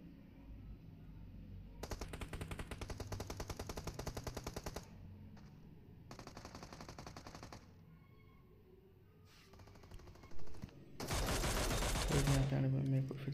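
Mini-14 rifle gunfire in a solo-versus-squad battle royale game comes in several rapid automatic-sounding bursts of shots, spaced by short pauses, with a heavier, louder barrage near the end.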